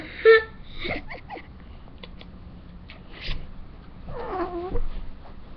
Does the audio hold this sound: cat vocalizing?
yes